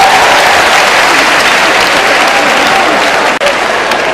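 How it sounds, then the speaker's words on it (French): Loud, sustained applause from a large audience gathered to honour schoolchildren, a dense wash of clapping that fills the whole stretch with a brief dip near the end. "Applaudissez pour les enfants de nous ici dans ce pays."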